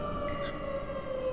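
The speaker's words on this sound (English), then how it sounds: "There's a siren that sounds like there's an airstrike coming in." A steady, sustained wailing air-raid siren in the VR horror game Affected: The Asylum, holding a constant tone throughout at moderate level, with no talk.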